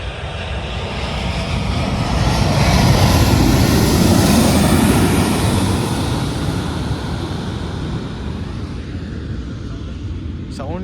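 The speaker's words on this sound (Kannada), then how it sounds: "ಇನ್ನೊಂದು ಏರೋಪ್ಲೇನ್ ಬಂತು ನೋಡಿ." A fixed-wing airplane passes low overhead on its landing approach, seen from a viewpoint near the runway in the early morning. Its deep engine rumble swells to a loud peak and then slowly fades.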